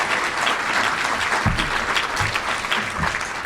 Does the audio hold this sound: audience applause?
yes